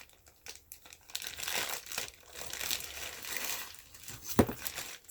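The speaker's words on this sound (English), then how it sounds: "So much protective plastic." Protective plastic packaging is crinkled and pulled away from a Longchamp purchase in bursts of close, crisp rustling and crackling, with short pauses between and a sharper snap near the end.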